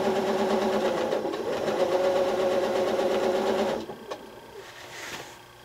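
A sewing machine stitching a zigzag spiral quilting design, its steady rapid motor hum and needle chatter running close and continuous for several seconds before stopping abruptly, leaving quiet room noise.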